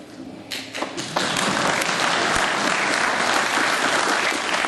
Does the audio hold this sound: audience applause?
yes